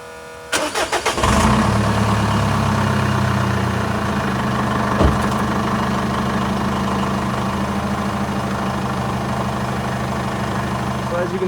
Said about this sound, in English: This is running stock exhaust, and I must say it still sounds pretty dang good to me.